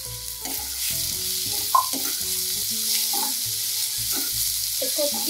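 Finely chopped green beans fry in a pan with a steady, close hissing sizzle and a few stirring knocks, while a melodic background music track plays over it and nobody speaks.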